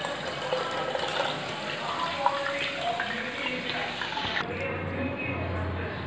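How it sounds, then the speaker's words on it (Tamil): Tamarind water poured into rasam in a Sri Lankan kitchen makes a steady close splashing pour that stops partway through. A voice talks over it. "கரைச்சி விட்டு புளி தண்ணியை ஊற்றுங்க."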